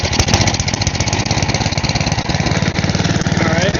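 A small gasoline engine meant for a go-kart runs on low idle with a loud, close, steady chugging rumble that continues without a break, and no one talks over it.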